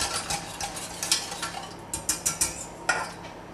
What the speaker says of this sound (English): Try and mix it all together.